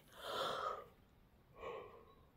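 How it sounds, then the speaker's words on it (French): A person yawns twice, a long breathy exhale followed after a short pause by a second shorter one, soft and close with no talk. "Pardon, désolé. J'ai bâillé."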